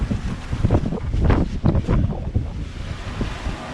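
Strong wind of about 25 knots on a sailboat roars in heavy, gusting buffets across the microphone, with low rumbling surges and water wash mixed in throughout, loud and close with no voices.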